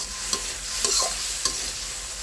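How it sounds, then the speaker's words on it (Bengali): Prawns fry in oily spice paste as they are cooked down, a close, even sizzle with a few quick stirring scrapes and taps. "এখন আমি চিংড়া মাছগুলো দিয়ে দিচ্ছি দিয়ে আমি একটু কষিয়ে নেব মশলার ভিতরে"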